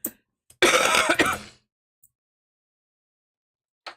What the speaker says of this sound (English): I apologize for this cough.